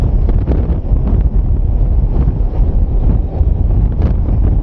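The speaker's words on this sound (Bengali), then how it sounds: "আর মুখে যে গরম হাওয়াটা মারছে, পুরো গরম একদম" Loud, constant hot wind rushes and roars against the microphone while riding a vehicle at speed on a mountain road.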